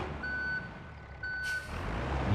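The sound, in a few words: truck reversing beeps in video game BeamNG.drive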